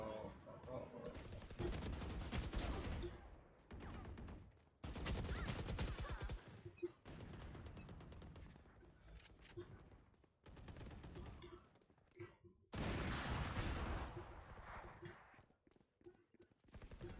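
Rapid bursts of gunfire from the tactical shooter video game Valorant, several loud clusters of fast shots separated by brief pauses, with a player talking over the action.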